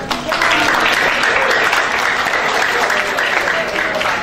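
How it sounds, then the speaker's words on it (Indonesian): Audience of students at a campus insurance seminar applauding, a steady, loud wash of clapping that holds throughout. "tepuk tangan dong buat"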